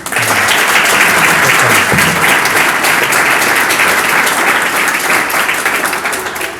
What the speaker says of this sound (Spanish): pide un fuerte aplauso para él, el señor Rafa Pagis.